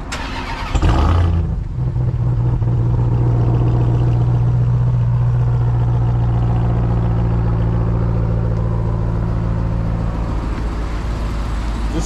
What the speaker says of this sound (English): Let me go ahead and start the car for you guys.